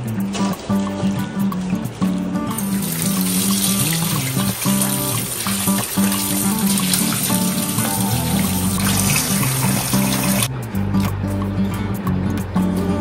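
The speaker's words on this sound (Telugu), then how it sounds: "కొద్దిగా ఉప్పు పసుపు యాడ్ చేసి వాష్ చేసుకోవాలి నీట్ గా." Prawns are washed by hand in water with salt and turmeric, with running water from a tap splashing and trickling close by, and soft rubbing and sloshing throughout, no talk.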